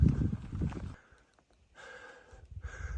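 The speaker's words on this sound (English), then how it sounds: "Pardon the panting." A hiker climbing Blood Mountain on the Appalachian Trail breathes heavily in close, raspy pants, a loud burst of exhalations, a quiet pause, then more breathing and faint shuffling steps, with no talking.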